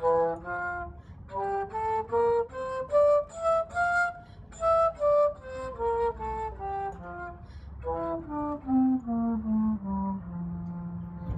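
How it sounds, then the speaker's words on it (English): A bass flute, four times the size of a piccolo, plays a slow, low melodic phrase of separate breathy notes that drifts downward toward the end, heard alone. "This is the bass flute."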